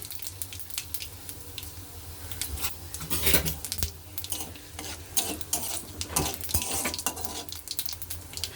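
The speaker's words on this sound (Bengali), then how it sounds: "জিরা তেজপাতা আর গোটা গরম মশলা ফোড়নে দিয়ে দেব সাথে একটা শুকনো লঙ্কাও ফোড়নে দিয়ে দিয়েছি" Cumin seeds, bay leaf, whole garam masala and a dried red chili sizzle in hot oil in a kadai, a steady close crackle broken by repeated bursts of spoon stirring and scraping against the pan.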